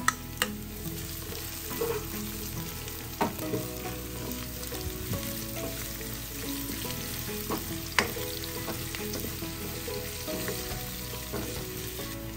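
Garlic and onion sauté in a pan for creamy coconut chicken, with a steady, moderate sizzle and occasional spatula knocks and scrapes. A low background hum runs throughout, and no one talks.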